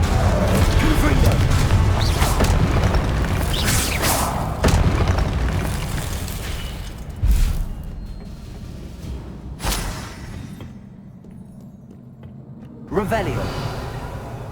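Confringo fire spell cast in Hogwarts Legacy, with loud booming explosive blasts and crashes, the first burst long and roaring, followed by several sharper impacts and rumbling tails amid game sound effects.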